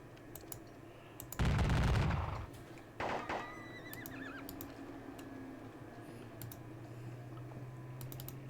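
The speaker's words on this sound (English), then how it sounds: "We'll start the overall exchange of gunfire." Gunfire exchange in a Battle of Bautzen wargame video game: two loud, broad volleys about a second apart, the first longer and heavier, then a faint steady background with scattered small clicks.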